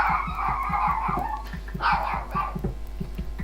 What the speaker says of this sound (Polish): Widzisz jakiego masz fajnego pieska?